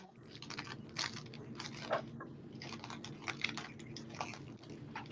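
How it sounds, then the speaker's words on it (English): Plastic packaging is opened with steady crinkling and crackling, close to the listener and continuous for a few seconds, quiet and without speech. "Sorry, it's gonna be crinkly"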